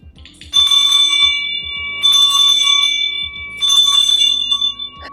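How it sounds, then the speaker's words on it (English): A bell rings in three bright, sustained strikes spaced about a second and a half apart, each ringing out with a shimmering, lingering tone, loud and close with low thumps beneath. "We used to do it with the spin of the bell."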